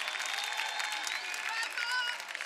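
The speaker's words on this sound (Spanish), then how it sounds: "Fuerte el aplauso para él." An audience at a drag gala in Corralejo, 2023, applauds a drag performer with dense, steady clapping and some crowd noise, fairly close and continuous.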